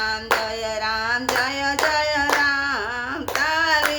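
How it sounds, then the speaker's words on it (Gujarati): Hands clap in a steady beat during a devotional Ram Navami bhajan, the sharp claps landing roughly every half to one second beneath loud, sustained sung melody. "રામ તાળી પાડો"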